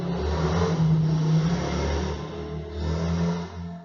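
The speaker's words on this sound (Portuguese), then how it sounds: "Por conta do som da moto." A motorcycle passing outside during a classroom lesson, a steady engine drone with a slight rise and fall in revving, fairly loud and heard alone.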